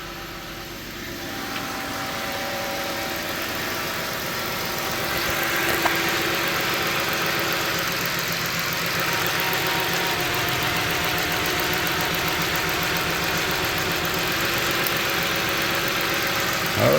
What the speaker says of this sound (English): Now I'm gonna disconnect one coil, or one fuel injector rather,